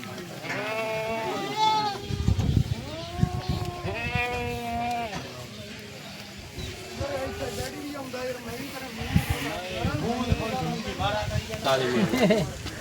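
Goats bleat repeatedly and loudly at a crowded Sunday livestock market in Surewala, Punjab, with overlapping calls from several animals under constant human chatter and bargaining.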